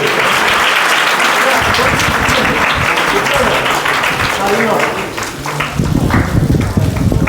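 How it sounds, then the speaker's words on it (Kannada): A crowd claps steadily and loudly at an award ceremony, a dense sustained round of applause with some voices mixed in. "ಎಲ್ಲರೂ ಜೋರ ಚಪ್ಪಾಳೆ"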